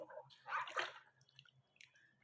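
Water poured over the Omkar idol during a ritual bath, a close splashing, dripping pour that swells briefly, then thins to scattered drips and trickles.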